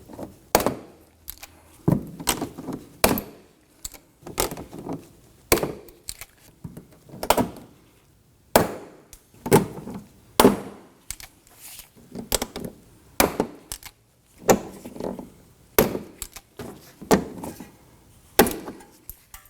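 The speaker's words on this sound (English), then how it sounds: "Now that we have a rivet installed here, we're going to continue this process all the way up and around" Plastic rivets being pressed into the front inner fender liner of a 2003-2014 Volvo XC90, giving sharp, repeated knocks and thunks in an uneven rhythm, each one close and loud, with short pauses between them.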